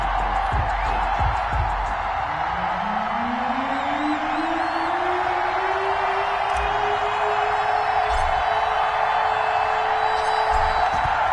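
A big stadium crowd roars before an NFL game between the Los Angeles Rams and the Seattle Seahawks in Seattle, a steady, dense wash of cheering with a rising horn-like tone and an announcer talking over it.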